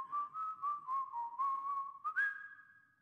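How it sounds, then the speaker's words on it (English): A character in the VR conducting game Maestro whistles a short, wavering tune, clear and steady, ending on a slightly higher held note. "I love the fact that he's whistling."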